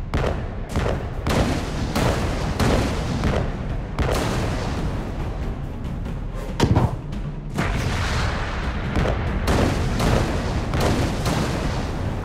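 Repeated booming cannon shots from a submarine in Alice: Madness Returns fire in rapid, uneven bursts, loud and close, with rumbling blasts layered over one another throughout.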